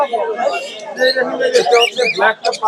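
Caged birds, including cockatiels, at the bustling Mirpur 1 bird market call out in a run of chirps and rising whistles, mixed with people talking close by.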